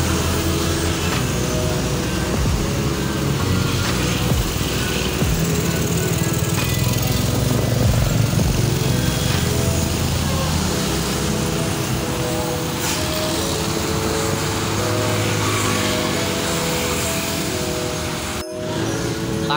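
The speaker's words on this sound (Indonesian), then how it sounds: "Terdapat iring-iringan mobil polisi dan bus pariwisata." A convoy of police cars and tour buses rolls past on a road, their engines a steady loud rumble that holds for the whole stretch without letting up.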